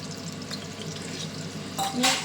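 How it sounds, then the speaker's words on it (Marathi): Fish shallow-frying in a pan, a low steady sizzle with faint crackling, then a brief louder scrape and flare near the end as the pieces are turned, close by and without talk. "खालून शेलो फ्राय झालं का व्यवस्थित, त्यानंतर असं पलटी करायचं"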